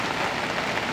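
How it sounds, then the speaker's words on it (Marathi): Heavy rain pours down in Nanded during a cloudburst-like downpour, a dense, steady hiss with no voices heard. "आमच्या जन्मापासून आणि कधी एवढा पाऊस बघितला नाही तेवढा पाऊस होतोय"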